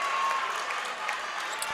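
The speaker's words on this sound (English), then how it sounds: "in a well-deserved round of applause" Crowd applause in a gym at a high school girls basketball semifinal, a steady wash of clapping with a broadcaster's voice over it.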